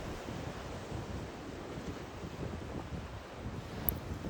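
Sea waves wash on a shore in a steady, soft, low-pitched rush, with breezy wind noise on the microphone and a brief click near the end.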